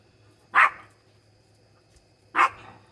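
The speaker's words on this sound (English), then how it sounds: "I think they see a squirrel or something up there. Dogs, you gotta love them." A dog gives two sharp single barks about two seconds apart, loud and close against a quiet background hum, with no one speaking.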